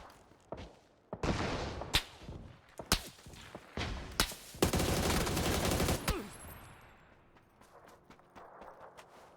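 Bursts of rapid gunfire in PUBG crack repeatedly in clusters, loud and close, with longer sustained volleys in the middle before tapering off into scattered quieter shots.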